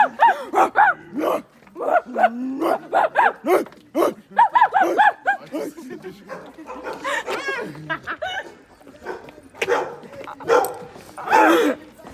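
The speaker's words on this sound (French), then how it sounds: "Des chiens." Dogs bark repeatedly in quick, irregular bursts, fairly close and loud, while people laugh and chatter over and between the barks.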